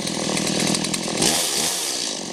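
A chainsaw runs at high, steady revs right after its chain brake is released, while firewood is being cut. The loud, close, continuous buzzing drops slightly in pitch partway through.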